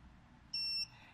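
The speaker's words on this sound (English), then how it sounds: "the buzzer will sound just like that" An Arduino-based kitchen alarm buzzer gives a single short, shrill electronic beep lasting about a third of a second, standing out clearly over a faint background hiss.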